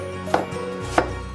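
A knife chops onion finely on a board, two crisp close knocks about half a second apart over a quiet background.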